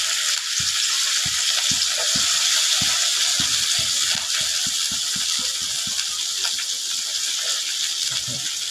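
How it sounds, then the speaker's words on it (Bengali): Cut taro stolons (lati), salted beforehand, are rinsed by hand in water, giving a steady wet sloshing with a run of short irregular splashes and clicks close by; no one speaks. "লতিটা আগে আমি এই সাইজ করে কেটে লবণ দিয়ে মাখিয়ে রাখছিলাম, এখন ভালো করে ধুয়ে নিচ্ছি"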